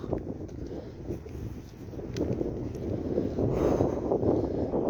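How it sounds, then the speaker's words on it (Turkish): Strong gusty wind sweeping across an open football training ground, a dense roaring hiss that builds slightly and buffets the microphone throughout. "Şu anda acayip bir rüzgar var."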